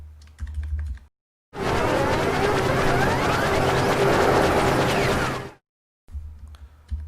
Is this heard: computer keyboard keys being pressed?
yes